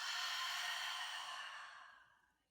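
A slow, audible exhale pushed out through the mouth with an open "ha" during a beginner yoga breathwork session. It is a soft, breathy rush that starts full and tapers into silence over a couple of seconds, heard alone.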